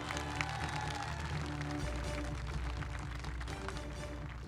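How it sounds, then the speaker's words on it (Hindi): A large crowd at a political election rally in Bihar applauds with dense, sustained clapping and cheering, steady and moderately loud, over a low musical or amplified hum. "एक बार आपकी तालियां ऐसी होनी चाहिए कि अगर मैं माइक आपकी तरफ ना भी करूं तो दिल्ली तक आवाज जानी चाहिए"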